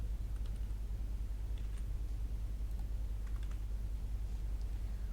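Typing on a computer keyboard while entering code, steady fast clicking keystrokes close by over a low constant background hum, no voices.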